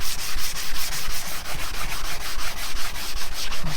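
Sandpaper held flat and rubbed back and forth over a lubricated engine cylinder head to remove carbon deposits, a close, loud, rhythmic scratchy rasping repeated in quick even strokes with no talk.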